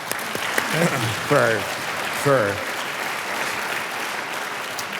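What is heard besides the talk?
audience applause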